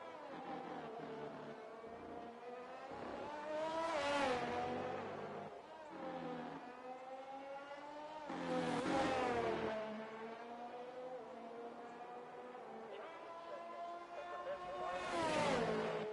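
Racing-game cars on the Hungary circuit, including an AlphaTauri, with engines whining and rising through gears and passing cars swelling and fading, steady and moderately quiet.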